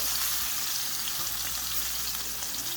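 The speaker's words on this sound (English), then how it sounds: "fried fish is on the menu this morning" Fish, a freshly caught pompano, frying in a pan, with a steady, loud, close crackling sizzle that holds evenly throughout with no talking.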